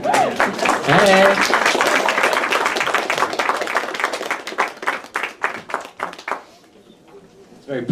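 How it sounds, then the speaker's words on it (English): A live-show audience claps in a dense, sustained burst that gradually thins into scattered individual claps before fading out, with a voice briefly heard near the start. "It's very polite clapping."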